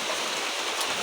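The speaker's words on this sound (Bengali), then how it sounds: "কেমনে আইলো এত বৃষ্টি?" Heavy rain falls as a brief, even hiss of dense drops, loud and close. No one speaks.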